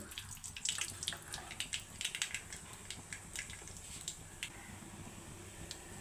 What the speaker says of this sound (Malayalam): നമുക്ക് കുറച്ച് കടുക് ഇട്ട് കൊടുക്കുക